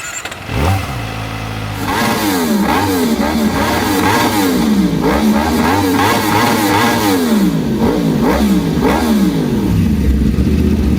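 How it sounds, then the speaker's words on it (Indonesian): A Kawasaki Ninja ZX-25R with its stock exhaust starts up and is revved repeatedly close by, its high-pitched four-cylinder wail climbing and falling in quick, sharp bursts with no talk. "simak dulu ya putaran mesin dan suara knalpot standar dari Ninja ZX25R."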